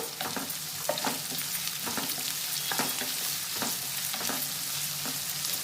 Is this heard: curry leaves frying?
yes